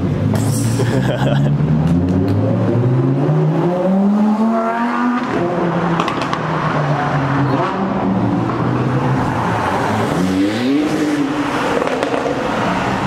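A Ferrari 488 Pista rally car at the Haspengouw Tour 2022 rally approaches with a loud rising engine note, shifts through gears, roars past close by and revs again as it pulls away, with spectators' voices faintly underneath.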